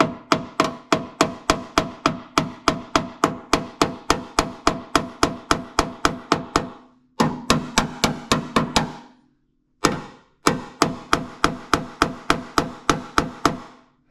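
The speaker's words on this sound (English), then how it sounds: "if you smack that metal back in" Steady, ringing ball-peen hammer blows on sheet metal in a Foxbody Mustang engine bay, about three per second, with two short pauses before the rhythmic pounding resumes, loud and close.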